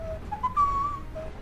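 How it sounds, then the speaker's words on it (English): A single person whistles a short, clear rising melody, a few sustained tonal notes over a quiet background. "Why would you whistle that? I was trying to whistle."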